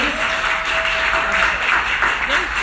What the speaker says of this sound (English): Everybody, please, round of applause to our panelists.